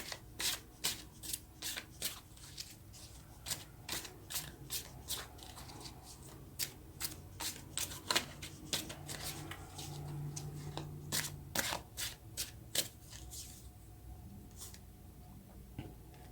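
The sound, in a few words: shuffling tarot cards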